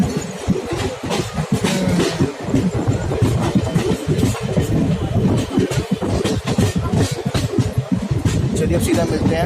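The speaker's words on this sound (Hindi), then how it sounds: "रानीखेत एक्सप्रेस आई है, वो जाएगी अपना काठगोदाम।" The Ranikhet Express, bound for Kathgodam, passes close by with loud, continuous rolling and rhythmic clickety-clack of wheels over rail joints. Voices are heard over the train noise.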